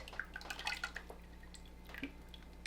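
Lye solution being strained for soapmaking, with scattered small drips and trickles falling into liquid, soft and close over a faint background hum.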